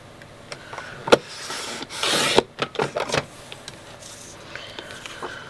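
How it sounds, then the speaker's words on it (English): A paper trimmer slices through a photo for a Disney travel album, giving a few brief rubbing, rasping strokes and sharp clicks at close range, with no talk. "I'll trim just a little bit off the bottom of this one."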